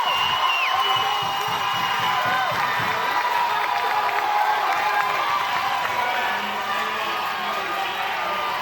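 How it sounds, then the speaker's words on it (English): A Little League World Series baseball crowd on the first base side applauds and cheers after a likely overturned call at first, a sustained roar of clapping and shouts heard from a distance under a broadcast announcer's voice. "We'll hear a big round of applause from the first base side."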